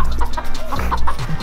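Chickens cluck nearby in quick, irregular bursts over a noisy, busy outdoor background.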